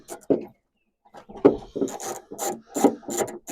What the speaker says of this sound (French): Et puis, on dévisse.